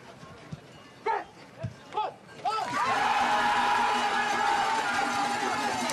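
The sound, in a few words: hometown crowd cheering at bobsleigh race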